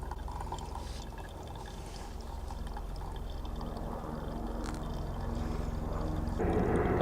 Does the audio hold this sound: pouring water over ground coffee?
yes